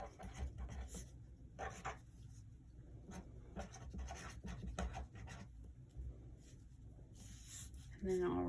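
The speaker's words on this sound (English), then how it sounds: "So I'm just going to write her name." Soft scratches of an orange pen writing a name on paper for cash-envelope budgeting, a string of faint close-up strokes and rubs with quiet pauses between them.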